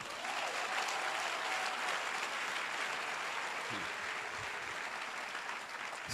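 A church congregation claps and cheers together during a sermon, a broad, continuous wash of applause that holds steady for several seconds before slowly thinning.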